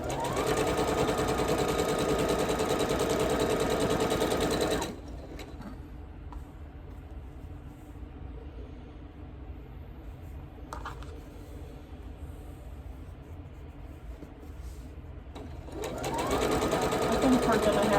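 A sewing machine stitching a quilt runs in a fast, steady whir, stops for a long quiet gap, then starts up again near the end.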